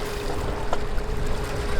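Motorboat on a lake in Switzerland in summer, a steady low engine drone with water rushing and lapping against the hull, close and continuous with a brief splash partway through.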